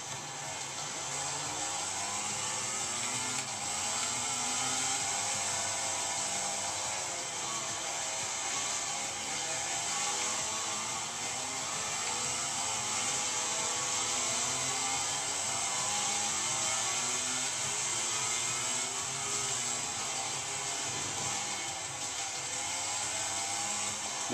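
A racing motorcycle engine from MotoGP 10/11 whines at high, steady revs throughout, a continuous buzzing drone with slight pitch wobbles as the bike bobbles through braking and corners.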